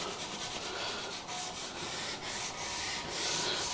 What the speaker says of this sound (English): So a bit of light sanding on all the corners.